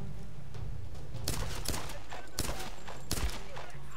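Several sharp pistol gunshots in the video game Tomb Raider ring out in quick succession over a constant background hum, with faint voices present.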